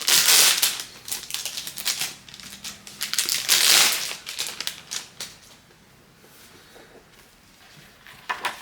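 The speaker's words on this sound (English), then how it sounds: "Let me get it out of the packaging to just see whether it's standard" A notebook is pulled from crinkly packaging, producing loud bursts of crackling plastic and paper rustle near the start, then fainter scattered crinkles and taps as the handling settles.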